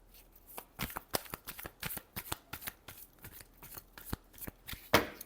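Tarot cards are shuffled by hand in a quick run of crisp riffling and slapping bursts, close and fairly quiet, with no voice.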